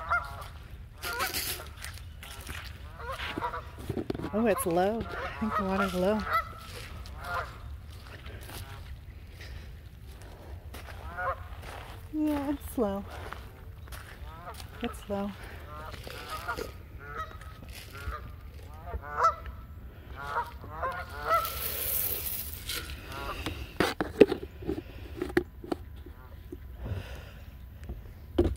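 Canada geese honking repeatedly near water on a cold, rainy day, loud nasal honks scattered throughout, with people talking in between.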